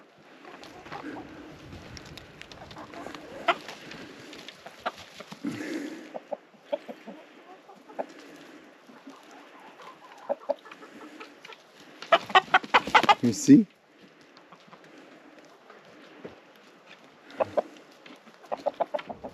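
Two roosters fight on an off-grid homestead, amid scattered clucking and squawks and a burst of flapping and scuffling near the middle; a person speaks briefly.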